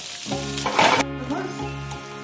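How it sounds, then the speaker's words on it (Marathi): Sliced onion hits hot oil in a pan with a loud, close sizzle, a bright burst of frying hiss followed by steady crackling and some stirring, with no voices. "त्यामध्ये थोडंसं तेल घालून घ्यायचं आहे. त्यानंतर हा लांबडा चिरलेला कांदा आहे तो ऍड करून घ्यायचा."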